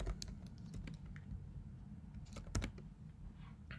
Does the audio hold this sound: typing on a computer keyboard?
yes